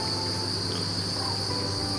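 Dense, continuous chirping from about 5,000 crickets in a bin, a steady high-pitched shimmer with no pauses, heard up close.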